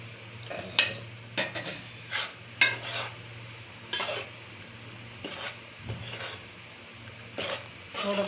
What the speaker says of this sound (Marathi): थोडं तूप घालतच भाजायचं,